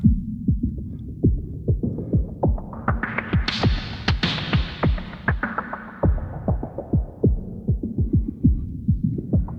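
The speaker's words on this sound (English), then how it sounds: "You can hear our reverb is being filtered." A series of rhythmic thumping hits in Logic Pro playback, each trailing into a filtered, dull reverb wash that swells and fades across the phrase.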